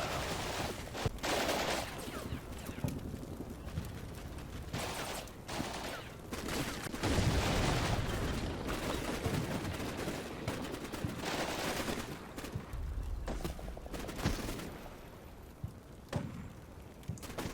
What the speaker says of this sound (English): One of our squad keeps covering fire.